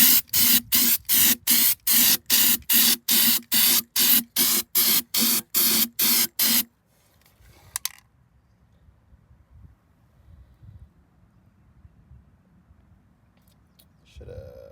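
Crack-detection developer sprayed onto a Detroit Diesel 8V92TA engine cylinder head in about fifteen quick, even bursts from an aerosol can, followed by quiet handling noises and a brief clatter.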